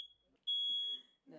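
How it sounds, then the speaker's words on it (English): A smoke detector being tested gives a loud, steady high-pitched electronic beep lasting about half a second, with faint background noise before and after. "fitting smoke detectors and testing them regularly"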